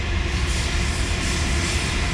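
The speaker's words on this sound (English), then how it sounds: "Another train" A train rolls past close by, a loud, even rumble of railcars that fills the whole stretch with no break and no talk.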